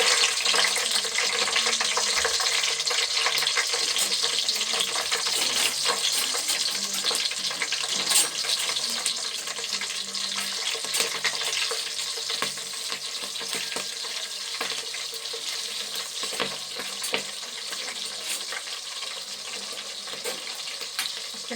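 Green chillies sizzling in hot oil in a pan, a steady bright hiss of frying that stays loud and continuous throughout with no talking.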